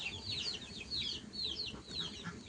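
Chickens clucking in a netted backyard enclosure shared with ducks, several birds giving repeated high chattering clucks at moderate distance over a low rumbling background.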